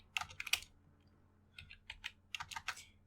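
Typing on a computer keyboard while writing Python code comes in two bursts of crisp, close keystrokes, a quick flurry, a pause, then a steadier run of clicks.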